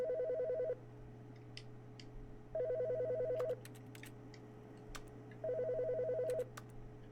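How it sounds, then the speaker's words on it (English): An office telephone in the video game The Stanley Parable rings in three evenly spaced electronic trills over a steady low hum, with faint clicks scattered between the rings. "I want to answer the phone."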